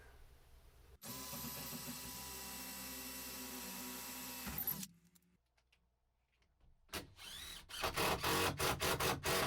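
A power drill whines steadily for a few seconds, driving a self-tapping screw through a pilot hole into the interior wall framing of a Ford E350 van, stops, then comes back in short, loud pulsed bursts at close range.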